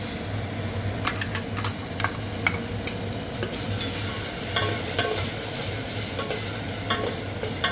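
Ginger garlic paste fries and is stirred in a pan for vegetable biryani, giving a steady close sizzle with repeated scraping strokes of a spoon throughout, no voices.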